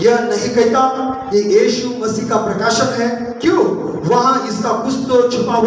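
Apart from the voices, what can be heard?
No everyday noises stand out.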